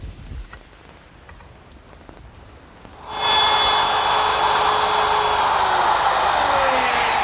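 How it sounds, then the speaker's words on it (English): A wood router fitted with a straight bit plunges into the wood to cut a mortise, working for an umbrella stand. After a few seconds of quiet it starts up, then holds a loud, steady high-pitched whine with no talk. "plunge the router into the work and allow the bearing"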